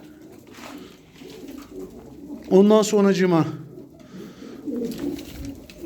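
A pigeon coos once, loud and close, a short rolling call in the middle, set against steady background murmur, with people talking around it.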